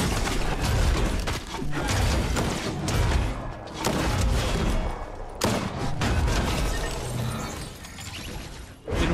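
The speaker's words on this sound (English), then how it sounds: "Who dare shoot at Black Panther?" Fortnite gunfire and explosions, a continuous loud clatter of shots, thuds and crashes with no letup.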